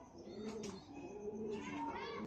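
Baghla Teddy breeder pigeons cooing: faint, close, low warbling coos repeating in rolling phrases, with a couple of brief brighter chirps or rustles between them.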